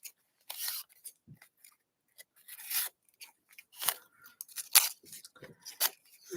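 Scissors trimming a postcard: a series of short, crisp snips and crunchy cuts close by, irregularly spaced with quiet gaps between them.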